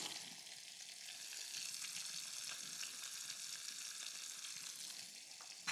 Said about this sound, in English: I'm going to stir this and cook it until the onions have just started browning